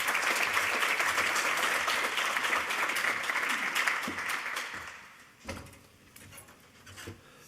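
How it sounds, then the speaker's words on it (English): An audience at a marine minerals exploration panel claps for a speaker: a dense, loud round of applause that holds steady for several seconds, then thins out and fades, leaving a few scattered claps and light knocks. "let's have a round of applause for Kerby"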